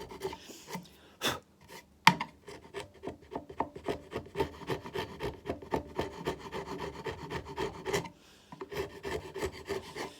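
A sharp chisel pares leftover wood from the corner of a hidden mortise in handmade wardrobe joinery, giving close, repeated scraping and rasping strokes in an uneven rhythm with brief pauses and no talking.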